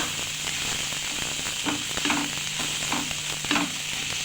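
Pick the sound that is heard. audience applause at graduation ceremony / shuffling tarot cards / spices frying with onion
spices frying with onion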